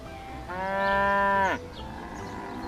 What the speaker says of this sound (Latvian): Šīs ir govis.